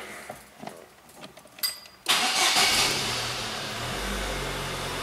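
A car engine cranks and catches after a quiet start, then settles into a steady, close idle that grows slightly deeper and fuller over a few seconds. The car is a 2012 Renault Mégane 1.6 16v, 2013 Chevrolet Agile 1.4 8v or 2008 Chevrolet Tracker 2.0 16v.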